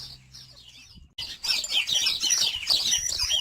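Birds chirp and twitter in a garden, the calls thin at first and then a dense, busy chorus of tweets over low outdoor rumble and faint clucking.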